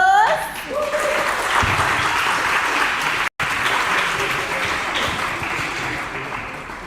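Sustained applause from an audience at a funeral service, a dense steady clapping wash that continues throughout with a brief dropout midway.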